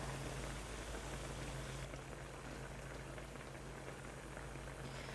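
Braised chicken with dried pollack in seasoning sauce bubbles on high heat, giving a steady, close, soft boiling hiss with no pauses.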